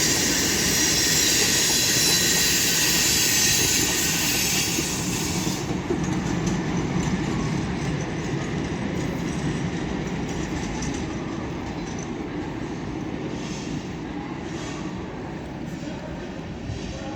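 A train hauled by a Class 69 locomotive rolls through Doncaster station on the East Coast Main Line with 69011 on the rear, a loud, steady rumble of wheels and wagons filling the whole stretch with a faint, fading hiss.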